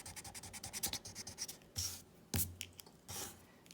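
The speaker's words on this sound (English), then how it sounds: "I need to erase my 3." A written number being erased on paper: soft, rapid rubbing strokes in a quick rhythm, followed by a few longer scrubbing swipes, close and quiet.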